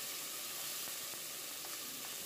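Onions hit hot olive oil in a pot and sizzle steadily, a close, continuous crackling hiss with faint pops, heard alone without speech.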